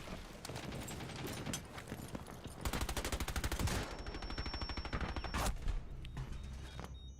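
Rapid automatic gunfire from the Sledge Reaper in a Denari match, rattling in dense bursts with a sustained fast-firing stretch in the middle, loud and close with no voices.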